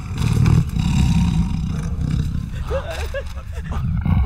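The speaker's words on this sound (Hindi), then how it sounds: "आजकल वहाँ एक आदमखोर बाघ घूम रहा है" A man-eating tiger roaring in the forest, a loud, rumbling roar that swells at the start and carries on throughout, with faint voices and clatter mixed in.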